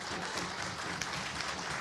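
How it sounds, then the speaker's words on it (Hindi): An audience at a televised Hindi poetry stage event claps in a steady, brief burst of applause, fairly faint and diffuse, lasting under two seconds. "एक बार ज़रा खुल के ताली बजाइए।"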